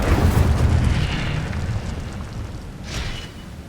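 An Incendio fire spell bursts in Hogwarts Legacy, a loud roaring whoosh of flame with a deep boom at the start that fades into rumbling, then a second brighter flare near the end.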